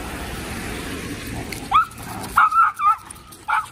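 A six-and-a-half-year-old dog held on a lead gives several short barks and yips in quick succession after a quieter stretch of background noise, close and fairly loud.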